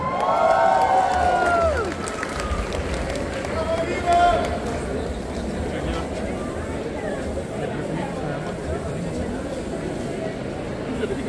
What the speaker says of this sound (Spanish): El aplauso es para ustedes.